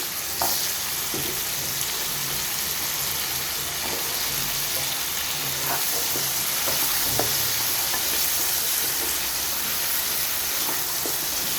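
Potatoes fry with mustard seeds in a home kitchen pan, a loud, constant sizzle with scattered pops and crackles and stirring scrapes throughout.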